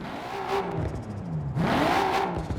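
A 1993 Nissan Skyline GT-R V-Spec engine in the video game Forza Horizon 4 revs up and drops back twice, a whirring mid-pitched turbocharged motor rising in pitch with each push of the throttle.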